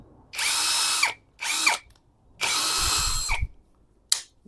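A CANLIDI CID 100 cordless three-mode drill runs in second gear with no load: three whining bursts of high-pitched motor spin, each rising and winding down, followed by a brief final blip, close and clear with no talking.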